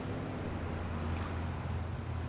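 Motorboats pass out on the sea, a continuous broadband wash of engine and water noise with wind buffeting, steady and fairly distant, no voices.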